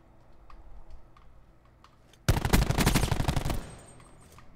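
Rapid automatic gunfire from a first-person shooter game, a loud sustained burst of about a second and a half after quieter game ambience, with the Mattox weapon in play.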